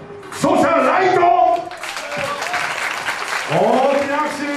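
Crowd applause at a kids' dance battle in the best-eight round, a continuous clapping wash running beneath an emcee's amplified, drawn-out voice that dominates the foreground.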